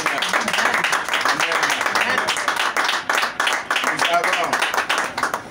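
A church congregation claps and cheers in praise of the Lord during a worship service, a dense steady roar of applause over the whole stretch, loud and close with voices mixed in.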